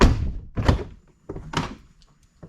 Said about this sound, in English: Now let's close the door.